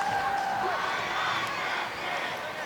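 Dense crowd noise and cheering fill a packed high school football stadium during the 2022 Fort Payne at Arab game, a steady loud roar with shouts and whoops throughout.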